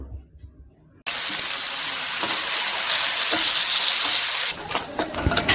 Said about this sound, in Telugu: కొంచెం ఆయిల్ వేసుకుని ఈ రైల్ని కొంచెం క్రిస్పీగా అయ్యేంత వరకు ఫ్రై చేసుకోవాలి